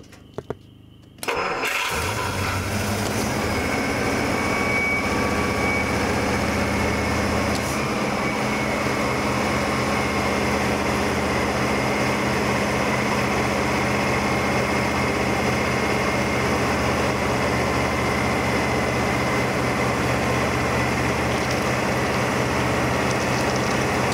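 A cold engine, paired with a Borg Warner DG 200 transmission, cranks briefly and catches after a short silence, then settles into a steady, loud, close idle that drones on without pause.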